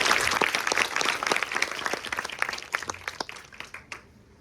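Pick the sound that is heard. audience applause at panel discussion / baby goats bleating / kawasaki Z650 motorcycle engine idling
audience applause at panel discussion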